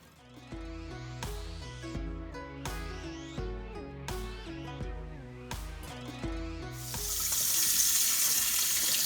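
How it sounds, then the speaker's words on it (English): Steady tones play for several seconds, then a tap gushes on, running water splashing loudly into a sink while chives are rinsed toward the end. "the best way to clean the chive is to clean it under running water"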